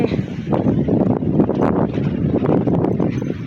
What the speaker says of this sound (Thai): ลมพัดแห้งอีหลีโอ